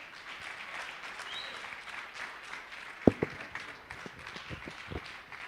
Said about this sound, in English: All right, keep clapping.